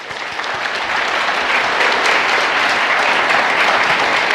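Loud, dense audience applause after a keynote at a Lenovo event in New York, swelling in the first second and then sustained evenly to the end.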